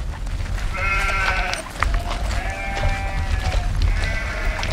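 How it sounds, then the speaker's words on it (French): Goats and sheep in a herd on a Ladakh mountainside bleat repeatedly, several drawn-out, wavering calls rising and falling in turn over a steady outdoor wind and rumble, fairly close and clear. "nous apercevons un troupeau de chèvres et de moutons dont Lamo compte bien s'approcher"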